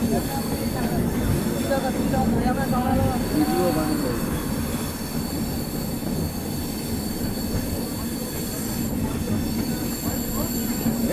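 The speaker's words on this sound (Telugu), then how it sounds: "సో ఈ మొత్తం డీప్ కర్వ్ అయితే అవుతుంది ట్రైన్" A Danapur–Secunderabad SF Express rumbles loudly and continuously through a deep curve, with wheels screeching and grinding in a high squeal over the steady roar of the carriages.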